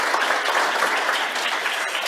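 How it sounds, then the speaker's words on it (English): Audience applause at a hepatology public health talk, a dense, steady wash of many hands clapping that fills the short moment without a break and with no voices over it. "I think we should even give them a round of applause."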